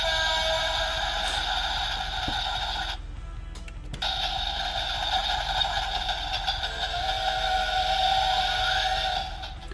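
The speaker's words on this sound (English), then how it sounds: "as you hear, this is a train Megazord" Toy train Megazord from a Super Sentai robot set plays an electronic train sound effect: looping tonal beeps and chimes, clear and close, with a short gap partway through and no voices.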